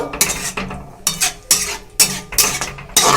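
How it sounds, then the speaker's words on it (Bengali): Coriander leaves are stirred into pasta sauce in a pan with the heat switched off, giving loud, close, rhythmic scraping and clinking strokes about every half second, with no voices. "এবার আমি ধনে পাতাটা এই সসের সঙ্গে ভালো করে মিশিয়ে নেব"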